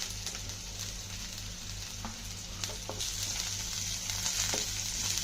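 Ginger, curry leaves and dried red chillies fry in oil for a potato curry, a steady sizzle with sharp crackles and occasional clinks under a low hum, no speech.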